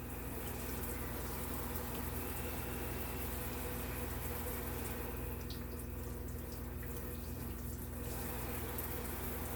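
Steady running cold well water from a tap, a constant hiss and rush at low level with no voices.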